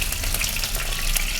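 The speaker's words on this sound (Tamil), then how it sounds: "கடுகு பொரியுது." Mustard seeds crackle and spatter densely in hot oil as a tempering starts sizzling, close and loud, with rapid popping over a steady frying hiss.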